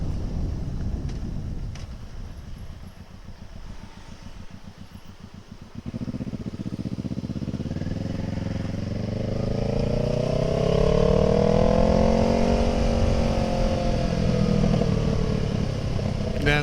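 A Kawasaki ER6N motorcycle is ridden at speed, starting with a steady engine drone and wind, then a sharper clattering run that rises as the bike accelerates and holds at high revs, close and loud, with no talking.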